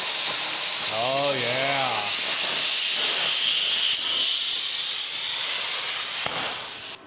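Loud, steady hiss of a cutter slicing metal on an old horse trailer, running continuously for about seven seconds before stopping abruptly, with a brief spoken remark early on.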